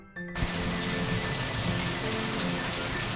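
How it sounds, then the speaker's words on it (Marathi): Heavy rain pours down steadily outdoors, a dense, even hiss of drops on surfaces that starts abruptly and holds at a constant loud level with no voices. "हे बघा बाहेर किती मोठा पाऊस पडतोय."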